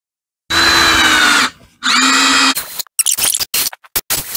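A drill drives screws into wood with two sustained, loud whirring runs, then a series of short stop-start bursts as each screw seats.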